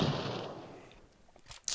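A grenade going off in the Clatter of Clans game: a loud, blasting burst that decays quickly into quiet, then a couple of faint, sharp crackles near the end.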